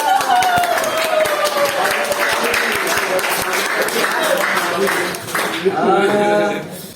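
A classroom audience applauds group 3 after their presentation, brisk dense clapping that gradually thins and tapers off near the end, with a voice briefly audible at the close.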